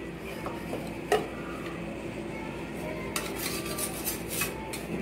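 A utensil cutting cow colostrum milk cake (seempal) on a plate, with soft scrapes and one sharp clink, then a burst of quick clatter against the plate under low background noise.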